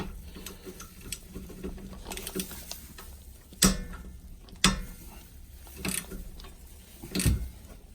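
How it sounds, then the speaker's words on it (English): Ratchet wrench working a nut on a Honda Jazz MK2 rear brake, bursts of fast close clicking with a few sharper metallic knocks and clanks in between. "Just find it a bit easier with a ratchet"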